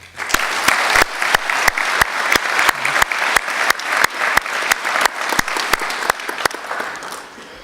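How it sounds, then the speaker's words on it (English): A crowd applauds loudly and steadily, with sharp individual claps standing out against dense, continuous clapping that fades slightly at the end. "join me in giving them a round of applause"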